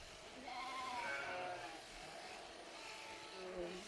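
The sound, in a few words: sheep bleating on a farm at shearing time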